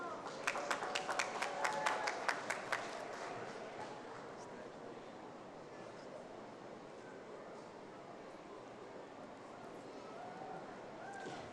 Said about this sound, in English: Let us now recognize these students with our warm applause